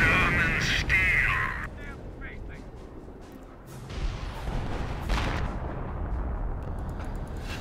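An artillery barrage lands in the World War II strategy game Company of Heroes: heavy booms and rumbling impacts rolling over several seconds, loud and near, with voices and battle noise mixed in.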